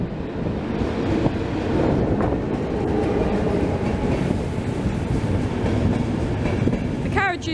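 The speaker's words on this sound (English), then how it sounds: "Here comes the train from Budapest Keleti, locomotive with some carriages." A long-distance train of locomotive and carriages arrives from Budapest Keleti, a steady loud rumble of wheels on rail with faint clatter, ending in a brief squeal of brakes.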